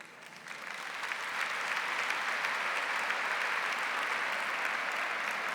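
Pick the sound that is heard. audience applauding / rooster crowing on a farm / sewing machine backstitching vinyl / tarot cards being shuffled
audience applauding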